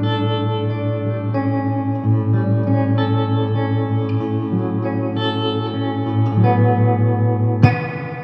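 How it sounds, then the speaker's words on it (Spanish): A guitar played through a Strymon Flint pedal on its Tweed Surf preset, sixties reverb with pulsing tremolo, sustained chords ringing with wet echo and shifting across several changes before a sharp final strum. "Es una reverberación y un trémolo muy sesentero"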